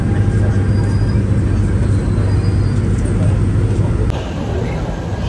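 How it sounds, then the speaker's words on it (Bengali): A metro train bound for Shanghai airport in China gives a constant, loud rumble and rattle heard from inside the carriage, easing slightly near the end. "ট্রেন চলতেছে, অলরেডি আধা ঘন্টার মতো হয়ে আসছে, কাছাকাছি মনে হয় চলে আসছি।"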